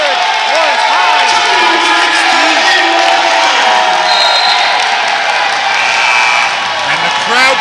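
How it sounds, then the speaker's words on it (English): A high school gym crowd roars loudly and without letup through a boys' basketball playoff game against St. John's, with whoops and shouts over a steady wall of noise and a commentator talking over it. "And the crowd noise is deafening."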